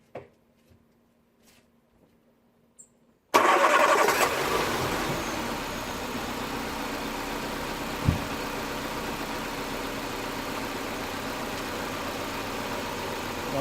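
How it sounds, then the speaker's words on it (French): A car engine cranks and catches abruptly after a quiet stretch, then settles into a steady, loud idle during a lambda oxygen sensor check, with one brief bump partway through. "Donc là on va tourner le moteur, on va le mettre en ralenti"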